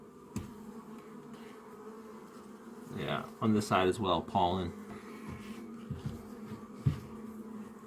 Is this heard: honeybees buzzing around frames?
yes